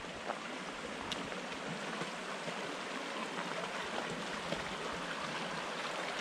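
Jefferson Creek, a clear mountain stream on the Colorado Trail, rushes and burbles in a steady, full wash of flowing water, heard close and without talk.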